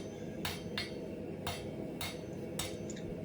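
A blacksmith's hammer lands five sharp, ringing back blows on hot steel while forging a snake. The strikes come at an uneven pace, close and clear over a low background rumble, with no talking.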